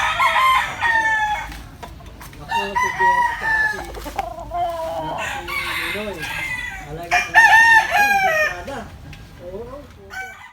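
A backyard rooster crows loudly several times in a row, each call a drawn-out, wavering cock-a-doodle-doo, with softer clucking and other fowl sounds filling the gaps.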